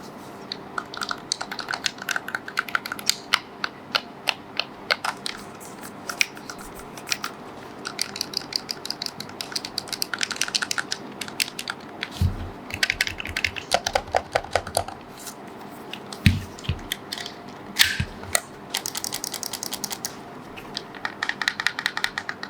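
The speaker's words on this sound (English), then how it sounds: "the back buttons might sound a bit different from left to right when you click them" Buttons on a GuliKit TT Max game controller, including the back buttons, pressed in irregular runs of crisp plastic clicks and taps, close-up and alone, with a few louder thumps mixed in.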